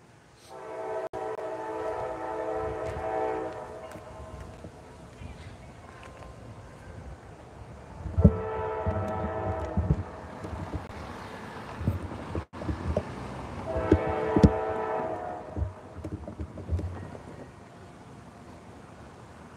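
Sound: CSX train B714 passing crossing with horn and bells

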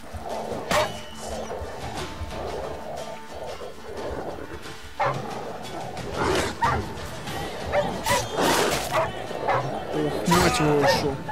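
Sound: dogs barking in the video game The Witcher 3

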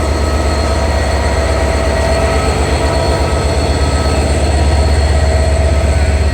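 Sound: train hauled by locomotive 6620 passing

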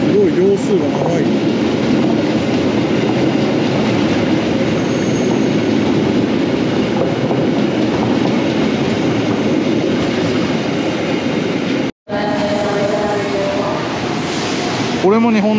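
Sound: commuter train passing at station

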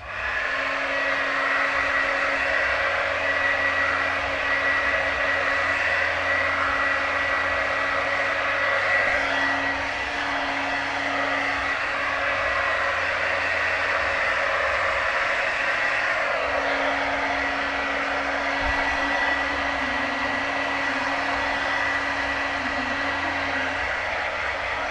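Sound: hair dryer blow drying hair

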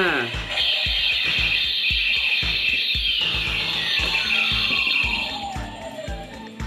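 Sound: video game character voice sound effect when button pressed

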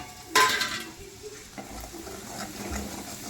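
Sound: spices frying in hot oil

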